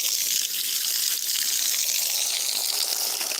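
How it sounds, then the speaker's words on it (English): Water runs steadily into a shallow bird bowl outdoors, a continuous hissing gush like a tap or hose stream, close and fairly loud with no talking. "Fill the bowl up."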